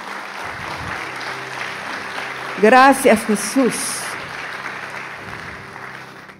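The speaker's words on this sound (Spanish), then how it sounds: "Vamos a darle el aplauso al Señor." A church congregation applauds steadily through a Spanish-language sermon on spiritual warfare, with the clapping swelling briefly as a voice calls out a short thanks over it.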